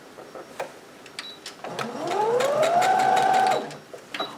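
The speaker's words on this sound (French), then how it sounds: "Donc là, on coud. On n'hésite pas à faire plusieurs allers-retours." A sewing machine stitches back and forth along the edge of a fabric pouch, its motor whirring in a steady rising-and-falling whine for a couple of seconds between quieter handling clicks, close and clear.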